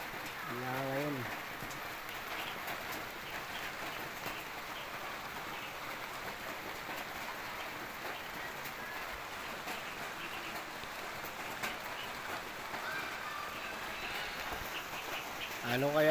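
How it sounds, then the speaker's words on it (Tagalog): Steady rain falling in a heavy downpour, a constant soft hiss of drops on surfaces, with faint chirping in the background at the start. "Napaka maulan sa amin."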